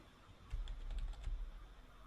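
Quiet keystrokes on a computer keyboard, a soft run of taps at an uneven pace that starts about half a second in and continues over a low steady hum.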